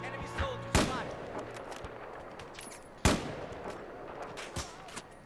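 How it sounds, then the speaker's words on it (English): Gunfire in the video game Battlefield 4 comes as two loud, sharp shots with distant crackling bursts between them, heard during a multiplayer match. "Oh, I'm getting shot at for sure."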